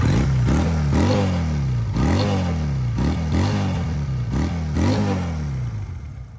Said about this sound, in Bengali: এই বাইকের হচ্ছে এক্সজস্টের সাউন্ডটা আসলে খুবই সুন্দর। আর এটা হচ্ছে ডুয়েল সিলিন্ডারের বাইক।